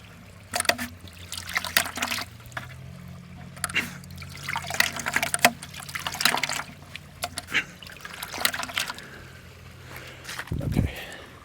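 Water squirts and trickles from a ram pump being primed at a new site, a close stream of splashing and dribbling spurts that rise and fall irregularly, with a few brief louder gushes.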